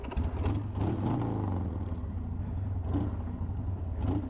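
A motorcycle engine with a failed clutch runs steadily at idle, a continuous low rumble and mechanical clatter close by, still turning with the clutch lever pulled in.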